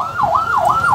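A fire engine siren wails in a steady rising and falling sweep at a fire on Jalan Darussalam, Tanjung Pinang, loud and close with no other sound over it.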